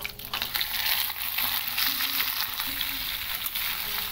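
Vegetables fry in hot oil with chilli while being stirred, giving a loud, close, continuous sizzle and crackle over a few seconds with light scraping of the spoon in the pan and no talking.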